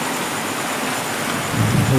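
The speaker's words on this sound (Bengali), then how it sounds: "অনেক বৃষ্টি হচ্ছে অনেক" Heavy rain falls at night as a steady, dense wash close by, with a low rumble that swells near the end; no voices.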